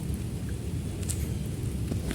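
Steady rain hisses beneath a low thunder rumble outdoors at an eel-fishing spot, with a few brief crackles and no voices.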